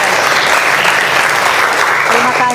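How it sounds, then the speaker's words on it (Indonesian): Steady, loud applause from a classroom audience during an Indonesian teacher-training lesson, dense and continuous throughout with no pauses. "tepuk tangan Bapak"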